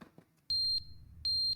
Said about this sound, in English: I see the fire alarms have not been checked in quite some time.